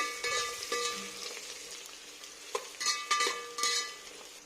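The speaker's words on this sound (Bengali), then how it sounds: "এখানে মিক্সড ফ্রাইড রাইস বসিয়েছি।" Mixed fried rice with egg, chicken, carrot, beans and capsicum cooks in a pan, giving a soft continuous sizzle broken by a few louder scraping stirs toward the end; no one speaks.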